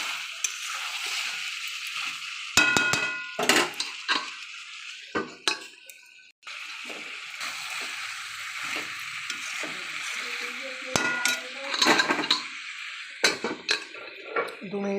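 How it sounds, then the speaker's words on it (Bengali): Chicken being stirred into cooked-down spice masala in a pan at home, with scraping and clinking of a utensil against the pan over a steady sizzle, in irregular bursts, while a voice talks intermittently. "এবার মাংসটা এর মধ্যে নাড়তে লাগবো।"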